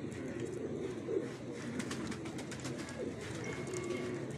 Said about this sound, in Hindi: ये फकीर गुल कबूतर है माशाल्लाह, इंपोर्टेड कबूतर है।